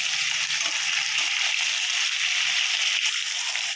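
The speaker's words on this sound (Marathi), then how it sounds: "तर आता आपण हे मिक्स करून घेऊया." Potato wafers being stirred into a hot pan to mix, a steady hissing sizzle with soft, low tumbling and scraping under it, close and unbroken.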